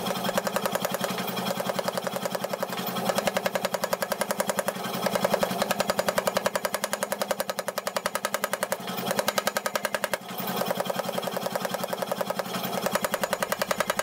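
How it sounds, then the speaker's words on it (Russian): A 95Kh18 stainless steel billet is forged into a strip under rapid, evenly spaced hammer blows, a loud relentless mechanical pounding with brief pauses. "Теперь одна задача — выковать полосу."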